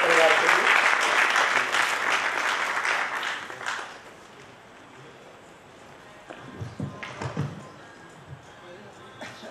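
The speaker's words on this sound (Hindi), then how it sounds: "तो एक जोरदार तालियां हमारे" Loud, dense applause from an audience at a founders day event fills the first four seconds, then fades into quieter room noise with a few scattered claps and knocks near the end.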